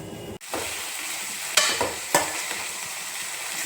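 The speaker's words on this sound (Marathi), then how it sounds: "आपण याच्यानंतर इथे करेला टाकू।" Sliced bitter gourd frying in a pan with browned onion, chilli and turmeric makes a steady close sizzle, broken by a sharp drop near the start and a couple of louder stirring or tossing bursts.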